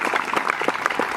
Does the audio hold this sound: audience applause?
yes